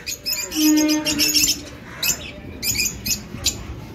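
Pet budgerigars chirp in a home bird colony: sharp, bright tweets and short warbling calls come in quick irregular bursts, fairly close and moderately loud, with no voices over them.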